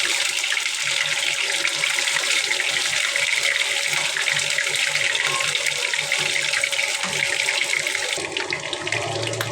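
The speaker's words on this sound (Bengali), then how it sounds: "কাবাবগুলো প্রায় হয়ে এসেছে, আর একটু সময় লাগবে, আর একটু ভাজতে হবে।" Kebabs fry in hot, spattering oil, giving a dense, steady sizzle that stays loud and close for the whole stretch, with no speech over it.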